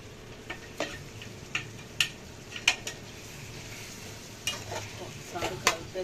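Nellore chicken biryani masala being stirred in a pot, with scattered scraping and clinking strokes over a steady low sizzle, moderately close and free of talk.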